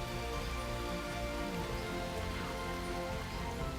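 Artificial rain sprayed from a hose on a TV set, a dense steady patter and hiss of water falling on surfaces that continues without a break, moderately loud, with no voices.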